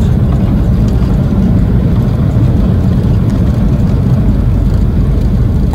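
A JAL airliner decelerating hard on the runway after landing at Miyazaki Airport, heard from inside the cabin as a steady, loud broadband engine and rolling roar with no speech.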